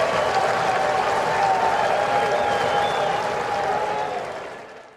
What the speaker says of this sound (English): And listen to this crowd for Anthony Rendon.